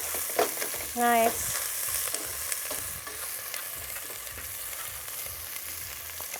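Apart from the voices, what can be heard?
onions frying in an oiled pan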